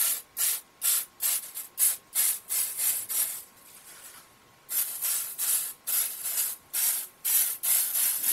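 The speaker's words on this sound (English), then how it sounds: "Just spray it a little bit." Spray can fired in short, repeated hissing bursts at a steady rhythm, pausing briefly midway before another run of quick puffs, close and fairly loud.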